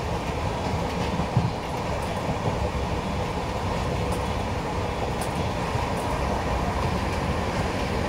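Palitana-Bandra superfast express train running at speed near Surat, a dense continuous rumble and rattle of wheels on track with faint rhythmic clicks, heard steadily from inside or close to the carriages.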